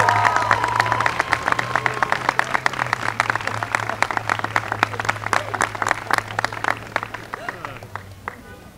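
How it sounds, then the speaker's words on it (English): Indoor audience applause at a Bronx political event for a red flag gun bill, many hands clapping steadily for about eight seconds with a low hum and some talk underneath, tapering off at the end. "let's give Andy King another round of applause"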